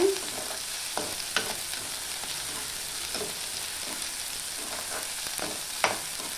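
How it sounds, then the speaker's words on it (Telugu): Mustard seeds, cumin, coriander and mint sizzle in hot oil as a tempering, a steady close hiss punctuated by scattered pops and stirring clicks, with no talking. "ఆవాలు జీలకర్ర కొత్తిమీర పుదీనా అన్నీ వేసి తిరమాత పెడుతున్నానండి"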